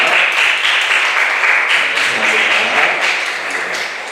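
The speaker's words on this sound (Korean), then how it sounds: "잠깐 일어나실 수 있으면 박수로 환영하도록 하겠습니다" Church congregation at a Sunday worship service applauding to welcome a newcomer, dense continuous clapping from many hands, loud and close, holding steady and easing slightly at the end.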